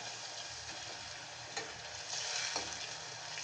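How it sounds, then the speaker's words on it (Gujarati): Tomato puree sautéing in oil, a soft, continuous sizzle and crackle with occasional light stirring scrapes, close by and with no talk. "તો અહીંયા તમે જોઈ શકો છો કે ટમેટાની પ્યુરી તેલ સાથે એકદમ સરસ સંતળાઈ ગઈ છે"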